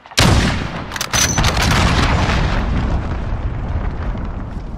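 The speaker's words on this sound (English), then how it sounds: "Enemy cruise missile, take cover." A cruise missile detonating in Call of Duty Modern Warfare multiplayer, a sudden loud close blast followed by a second hit and a long rumbling decay, with no talk.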